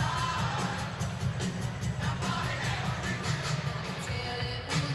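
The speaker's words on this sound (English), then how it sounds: "Chrysler crowd has been louder than maybe any other game this year today" Crowd roar fills an arena during a Michigan Wolverines home basketball game against Indiana, a steady dense wash of voices with scattered cheers and whoops running throughout, loud and continuous with no clear speech on top.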